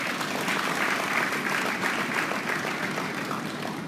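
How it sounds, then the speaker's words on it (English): An audience at a 2019 graduate induction ceremony in Nigeria claps steadily, a dense, even round of applause heard from within the room, sustained at moderate loudness without pause. "I think they deserve a big round of applause."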